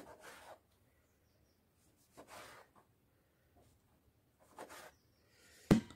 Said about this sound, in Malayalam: നാരങ്ങ കട്ട് ചെയ്തെടുക്കാം.